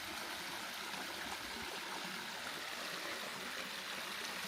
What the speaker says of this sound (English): There's a pretty little waterfall.